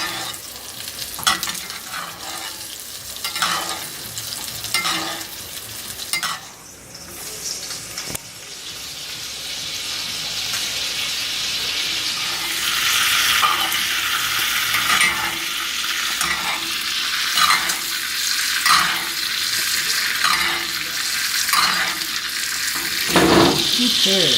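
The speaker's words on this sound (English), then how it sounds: "What you're doing now is you're just searing the outside" Steak searing in a hot pan with butter being spooned over it, a steady loud sizzle that grows denser midway, with occasional stirring and utensil clinks against the pan.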